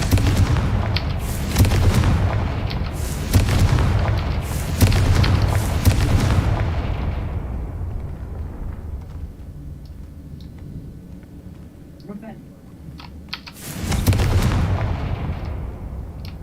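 Explosions from the Confringo spell in the Hogwarts Legacy video game: a rapid run of heavy booming blasts, then a quieter lull with faint clicks, then another loud boom near the end.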